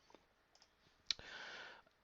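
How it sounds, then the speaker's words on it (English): Computer keyboard keys are pressed for a Control-C shortcut, giving a few faint, sharp clicks and taps followed by a short, soft hiss in an otherwise quiet room. "you just press Control-C on your keyboard to stop it"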